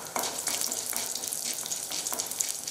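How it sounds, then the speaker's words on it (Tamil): Urad dal and chana dal frying in sesame oil for chutney give a steady close sizzle, with faint stirring scrapes and small crackles throughout and no voices. "நல்லெண்ணெய் ஊற்றிருக்கேன். இதுக்கு உளுத்தப்பருப்பு கடலைப்பருப்பு சேர்த்துடுறேன். இது வறுபட்ட உடனே"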